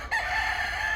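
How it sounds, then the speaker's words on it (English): A rooster at an illegal cockfighting venue crows in one short, loud, sustained call that starts abruptly, heard up close and alone. "man, the roosters."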